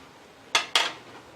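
Two quick metallic scrapes of a spoon against a pot while chicken for biryani is stirred, close and clear, a short pause between them.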